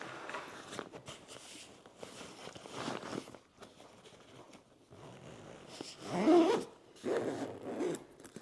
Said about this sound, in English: Okay, we can get it zipped up.